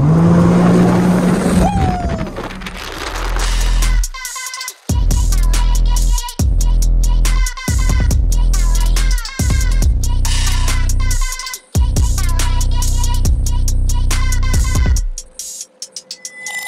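A jet ski pushed toward top speed on open water, its engine roaring loud and close with repeated bursts of throttle and brief drops between pulls, wind and water rushing underneath.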